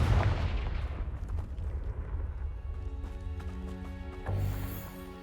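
A Confringo spell blast in Hogwarts Legacy goes off as a loud booming burst, followed by rumbling debris and a ringing magical tone that fades, with a second thud near the end.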